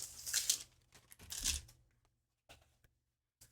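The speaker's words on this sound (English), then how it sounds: "my dog is over here rustling through stuff" A dog rustling through stuff indoors, with bursts of crinkling and tearing noises from paper or plastic, two louder bouts followed by a few brief soft scuffles separated by quiet.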